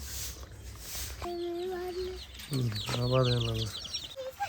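Chickens cluck and call near a village coop as chicks are let out, several clear drawn-out squawks and clucking bursts close by, rising louder toward the end, over faint background noise.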